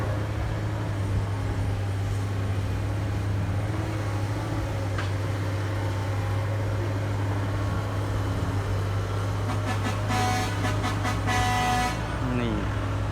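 A Fuso 628 ten-wheeler truck rumbles nearby, then sounds its horn in greeting with a rapid series of loud blasts near the end, while voices murmur in the background.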